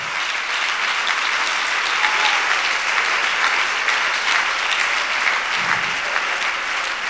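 Steady, dense applause from a large church congregation fills the whole stretch, loud and continuous without pause.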